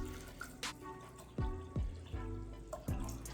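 Alpine spring water splashes into a bowl of sea moss in a few separate pours, each one a close, gurgling gush with short pauses between.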